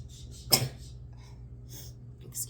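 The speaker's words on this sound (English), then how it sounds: "I think I got to sneeze" One sharp, sudden sneeze close to the microphone, followed by faint breathing and small sniffs, then a brief huff near the end; no speech.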